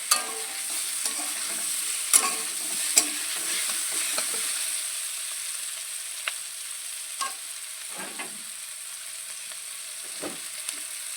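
Vegetables and cumin stir-fry in a pan before rice goes in, a steady low sizzle broken by scattered scrapes and taps of a spatula, close and alone.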